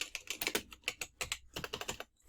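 Quick, close keystrokes on a computer keyboard come in a busy, uneven run of clicks with a few short pauses, ending in quiet.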